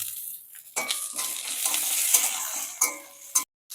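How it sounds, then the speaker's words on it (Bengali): Oil sizzles and crackles loudly as chopped ginger and green chillies are stirred in a hot pan, with a few sharp scraping strokes. "এর আমি দেবো কোচানো আদা আর কাঁচা পাকা লঙ্কা"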